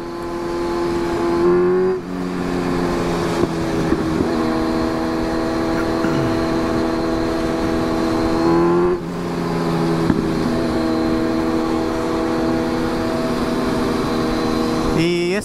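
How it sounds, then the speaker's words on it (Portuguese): Motorcycle ride along a city avenue, with a steady engine drone and road and wind rush throughout, and gear-change dips in pitch at a few points. "Mano, andar de moto é muito da hora, velho."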